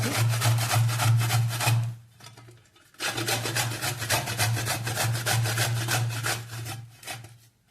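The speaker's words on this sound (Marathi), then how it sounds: "आता आपण खोबरं किसून घेऊया" Dried coconut grated by hand, a loud steady rasping scrape repeating in quick strokes, pausing briefly for about a second before resuming the same rhythmic grating.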